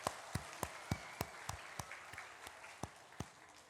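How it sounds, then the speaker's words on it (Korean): Hand-claps at a Sunday afternoon church service, after a group sang a special song and was called back for an encore. A quiet, steady rhythm of about a dozen sharp claps in unison, evenly spaced. "박수 한번 더 합시다."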